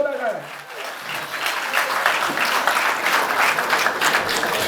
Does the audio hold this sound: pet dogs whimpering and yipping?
no